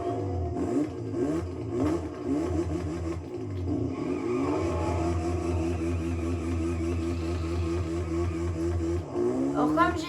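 A Kawasaki 125 supermoto motorcycle engine in a video game revs in several quick, rising bursts, then holds a steady buzzing drone before revving sharply again near the end.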